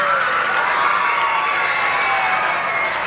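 A school audience, many of them children, lets out loud, sustained cheering and shouting for two teachers, with some high whoops carrying over a steady crowd roar and any clapping mostly buried in the noise.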